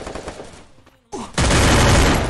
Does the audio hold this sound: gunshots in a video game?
yes